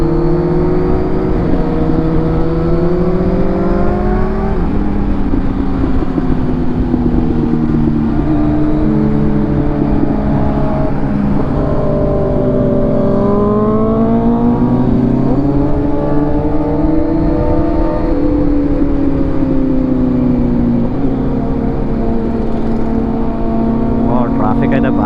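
A sport motorcycle engine revs loud and close, its pitch repeatedly climbing and falling in sustained waves that hold for the whole stretch.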